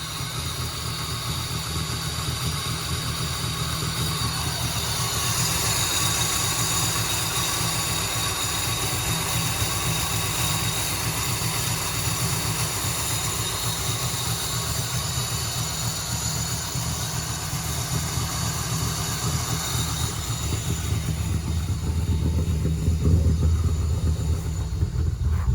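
A 396 cubic inch engine with AFR heads and a big hydraulic cam, dynoed at 577 horsepower and running poorly during tuning, idles steadily, a constant mid-pitched mechanical drone heard nearby without talk.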